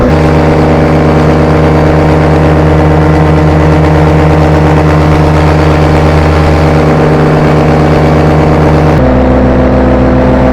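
A paramotor engine drones loudly and continuously in cross-country flight, a steady close-up buzz with a strong low hum and a slight shift in pitch near the end.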